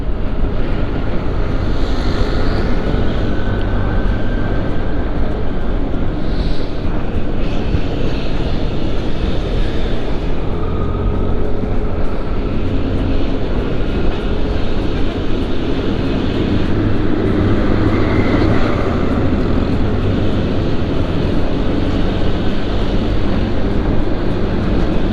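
Motorbike engine on an empty road during a touring ride, a steady loud drone with rising pitch as the rider opens the throttle, mixed with heavy wind rush on the microphone throughout.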